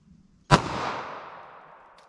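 A Ruger LCP .380 ACP pocket pistol fires a single loud, sharp shot loaded with Federal Hydra-Shok, and the crack rings out and decays over about a second and a half.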